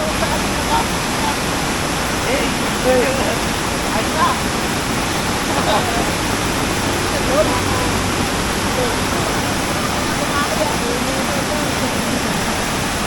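Loud, steady rushing floodwater roars without pause during a typhoon, a dense wash of noise like a swollen, overflowing torrent close by.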